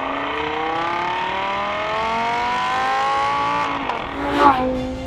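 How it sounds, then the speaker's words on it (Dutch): A 2013 Lamborghini Gallardo LP 560-4 with its V10 engine in Corsa mode gives a loud, steady, rising howl as revs climb, with a brief shift or throttle change near the end. "als je hem dan op Corsa zet, dan klinkt hij echt subliem"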